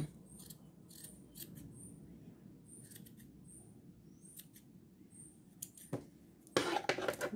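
Scissors snip through craft material for decorated back-to-school pens, a few quick scattered cuts close by over quiet room noise, then a louder burst of handling near the end.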